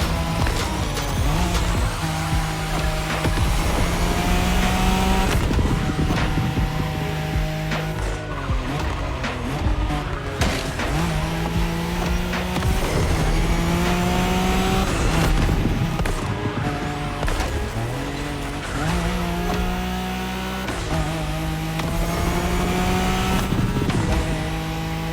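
Nissan Skyline engine in The Crew Motorfest racing game, revving hard through repeated gear shifts with rising pitches and tire squeal, loud and continuous throughout.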